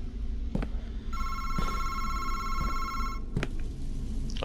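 A telephone bell rings in a sustained electronic trill lasting about two seconds, loud and close, between thumps and background noise.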